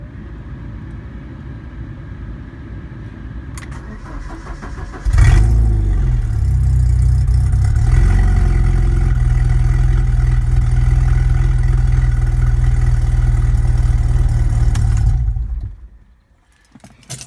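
A Ford Escort Cabriolet Mk5 engine with no exhaust fitted starts with a burst and idles roughly and loudly with an uneven, unmuffled, lumpy rumble, then cuts off near the end.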